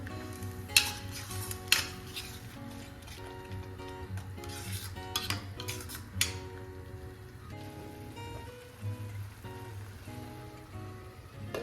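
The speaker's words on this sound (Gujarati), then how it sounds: "હવે આપણે ટામેટાની પ્યુરી બનાવી છે એ એડ કરીશું અને હવે આપણે બધું બરાબર મિક્સ કરી લઈશું" Tomato puree stirred into cooked garlic in a pan, with soft frying sizzle running throughout and several sharp clacks of the spoon against the pan, heard up close.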